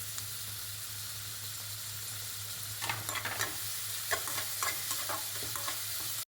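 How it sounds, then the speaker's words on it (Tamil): Mustard seeds, onion, garlic and curry leaves sauté in hot oil for a brinjal and drumstick poriyal, a steady close sizzle with stirring scrapes and crackles picking up partway through, no voices. "கடுகு, வெங்காயம், பூண்டு, கருவேப்பிலை எல்லாமே சேர்த்து நல்லா வதக்கி விட்டுருங்க"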